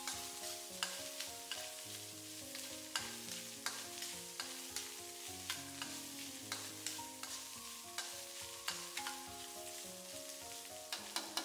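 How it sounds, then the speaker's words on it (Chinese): Diced shiitake mushrooms and dried tofu stir-fry in a wok, with a continuous sizzle and a regular run of spatula scrapes and clacks against the metal, close and steady with no voices. "再把香菇丁和香干全部倒进来，继续翻炒，把表面的水分给它炒干"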